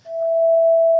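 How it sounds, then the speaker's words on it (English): A steady, pure sine tone meant as A 440 sounded with its perfect fifth, held evenly for about a second and cut off sharply at the end, with no talk. "This is called what we call a perfect fifth."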